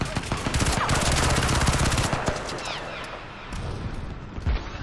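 Rapid assault rifle fire from the Scarab in a Crysis 3 multiplayer match, a loud fast burst of closely spaced shots followed by scattered single shots and a few more brief bursts.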